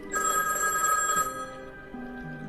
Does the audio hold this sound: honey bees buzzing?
no